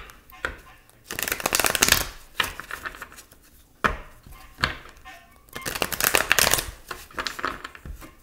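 Tarot cards being shuffled in bursts of riffling and sliding, loud and close, with short pauses between rounds and no talking.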